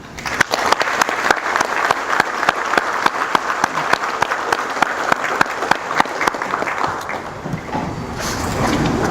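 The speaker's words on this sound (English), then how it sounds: "giving them a round of applause and thanking them" Loud, sustained applause from an audience at an awards ceremony, dense rapid clapping filling the room and tapering slightly near the end.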